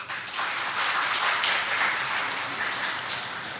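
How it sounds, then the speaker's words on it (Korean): A church congregation clapping together in sustained, even applause during a Sunday service, dense and steady from start to finish. "큰 박수 부탁드립니다"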